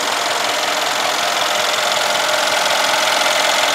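Brabus-tuned S-Class with a 6-liter bi-turbo engine runs steadily nearby, giving a loud, even, broadband mechanical hum and rush with no revving, alone without voices.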